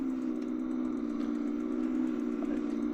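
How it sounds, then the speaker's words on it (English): A KBO Oasis electric cruiser bike motor grunts uphill in a constant, close, strained hum with a faint rough buzz, steady for the whole stretch. "So you can hear that grunt through here."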